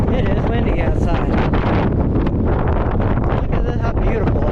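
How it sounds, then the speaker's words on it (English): Strong wind buffets the top of the St. Augustine Lighthouse, a loud continuous roaring rush across the microphone with no letup, and a voice may be faintly present beneath it. "It's extremely windy."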